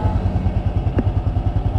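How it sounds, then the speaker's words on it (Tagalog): Honda XRM 125 Fi motorcycle engine idling steadily, a close, even low-pitched putter with a regular pulsing rhythm running throughout. "Ayan, naka-idle lang yan mga boss"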